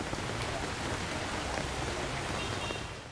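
Steady monsoon rain pours over the city of Hue, Vietnam, a dense, even hiss of falling water that holds at constant loudness throughout, with no voices.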